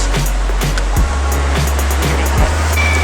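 Ocean surf rolls steadily onto the beach at Esterillos, Costa Rica, a loud continuous wash of waves with a low rumble and no talk.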